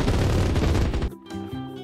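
Rapid gunfire aimed at pirate boats in the video game Mini World Creata, a dense, loud burst of machine-gun-like shots for about a second before cutting off into quieter game tones.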